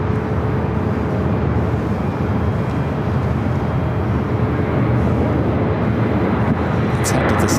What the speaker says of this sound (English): Northern Air Cargo, converted 767, taking off